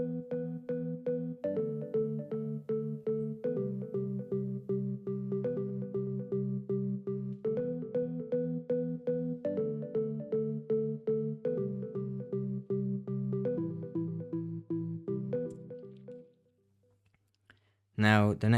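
A Korg M1 organ patch with a low cut at 100 Hz plays a rhythmic stabbing chord pattern, regular repeated hits with thinned bass, loud and steady. It stops near the end, followed by a short burst of speech.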